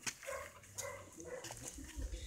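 A Bulgarian shepherd dog makes short close barks and yips in bursts, with low whimpering sounds between them.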